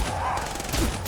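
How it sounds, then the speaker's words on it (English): Thunderbolt Tesla cannon firing in the game Fallout 4, a dense crackling electrical blast that rumbles on steadily for about a second, loud and close. "we fight the opponent with our new Thunderbolt Tesla cannon"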